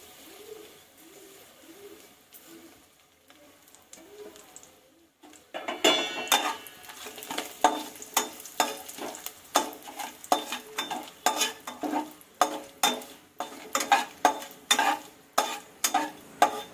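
Mushroom biryani masala frying in a pan with kasuri methi: soft cooing-like sounds give way to steady sizzling with rhythmic stirring scrapes, a spoon working the masala in repeated strokes, close and moderately loud.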